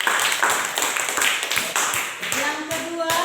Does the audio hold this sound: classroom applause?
yes